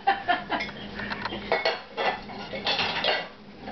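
Dishes and cutlery clatter and clink repeatedly at close range as they are put away, with irregular bursts of ceramic and metal knocks and no talk.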